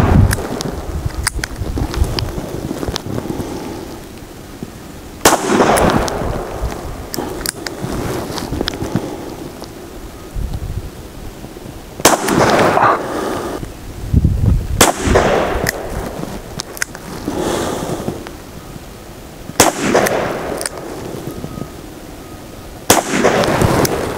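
Two .357 Magnum revolvers, a short-barrel Rossi 873 snub-nose and a 4-inch Smith & Wesson 686, fire loud single shots spaced several seconds apart outdoors, with wind noise between the reports.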